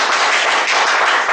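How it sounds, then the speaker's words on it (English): An audience at a speaking club evaluation session gives the speakers a continuous wash of applause, dense and even, close and loud with no voices over it. "they really need a round of applause"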